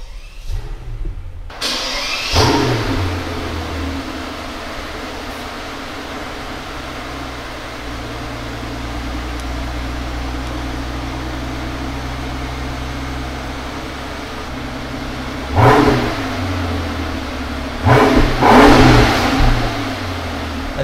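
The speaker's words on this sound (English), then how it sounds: "we will start the engine, a V12 6-liter petrol engine, bi-turbo" A 2020 Mercedes-Maybach S650 Pullman's 6-litre twin-turbo V12 petrol engine cranks and catches, then settles into a steady deep idle, with two sharp throttle blips revving it up near the end.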